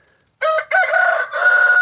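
A rooster crows loudly and close by in a long, drawn-out call with a short break midway, while chickens are fed bread from a porch on a farm.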